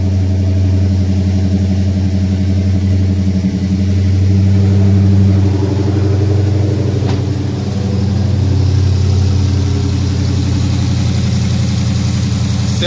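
A Dodge Challenger fitted with an aFe GT Momentum cold air intake idles steadily, a loud, close, continuous low rumble with no talking.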